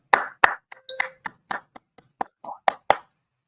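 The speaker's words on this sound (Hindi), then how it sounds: "वाह भाई वाह, तालियां" A single person claps slowly and unevenly, about ten sharp, close hand claps spaced apart, with a brief voiced sound partway through; quiet gaps fall between the claps.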